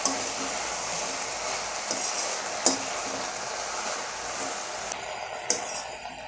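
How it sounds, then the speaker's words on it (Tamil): Raw banana pieces sauté in oil for vazhakkai poriyal, a steady close sizzle under a faint hum, with a couple of sharp clicks from stirring and no talking. "வாழைக்காவை போட்டு நல்லா இதில் ஒரு 2 நிமிஷம் வந்து நல்லா வதக்கி கொடுக்கணுங்க"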